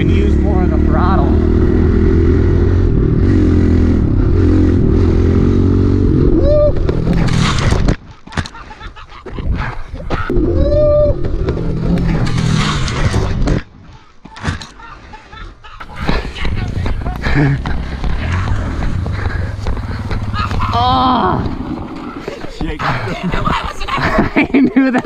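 A new pit bike revs hard, its engine rising and falling, then crashes with a loud clatter. Voices talk and shout over and between the engine noise.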